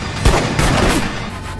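Gunfire in an action film about two detectives and gangsters: a few loud, close booming shots in quick succession, echoing with no speech.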